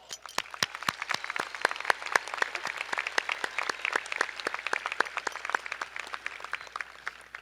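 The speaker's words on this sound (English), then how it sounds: "Let's give them a round of applause" Scattered claps from a graduation audience at Clear Lake High School, a steady run of sharp, distinct hand claps at a moderate distance, thinning slightly toward the end with no voices over it.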